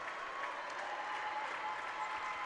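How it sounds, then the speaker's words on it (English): Round of applause from the student section at a girls basketball section championship game, a steady dense clatter of clapping from a crowd that holds at an even level throughout, with no speech over it. "Kate Diggins into the game as Riley Mickelson and Kai Anderson now get a nice round of applause from the student section"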